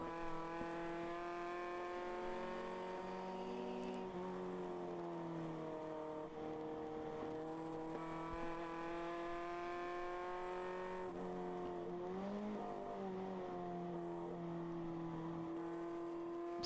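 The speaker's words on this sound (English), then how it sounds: "Smooth downshift as we go into Oak Tree here" An endurance race car laps the Nelson Ledges circuit, its engine droning steadily and then dropping through gears as it downshifts into a corner, with each shift bringing a stepped change in pitch, heard from onboard without talk.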